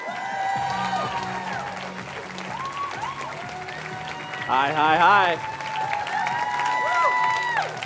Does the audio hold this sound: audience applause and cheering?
yes